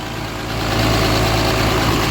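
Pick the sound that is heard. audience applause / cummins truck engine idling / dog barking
cummins truck engine idling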